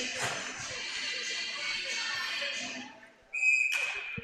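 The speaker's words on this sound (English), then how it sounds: "One of the linesmen, not the linesman dropping the puck, blows the whistle there." A linesman's sharp whistle blast cuts through crowd and rink noise after a false start at a faceoff in a college ice hockey game, steady and piercing near the end after a brief lull.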